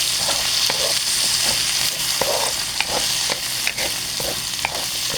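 Vegetables for lumpiang hubad, including purple and yellow sweet potato, stir-fried in a pan: a continuous close sizzle with regular scraping and clacking of a utensil stirring, no talk.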